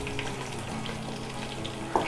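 Chopped onion frying in hot oil with a pinch of cumin seeds, for a white pulao. The steady close sizzle hisses evenly throughout, and a small clink sounds near the end.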